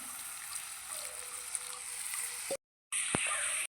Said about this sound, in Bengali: দুধের জলটা দিয়ে দেব।